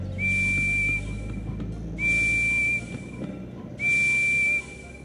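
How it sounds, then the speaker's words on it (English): Steam whistle of Thomas the Tank Engine in a video game, blown three times as steady, clear, high toots of about a second each, separated by short gaps over quiet background. "Let me whistle now."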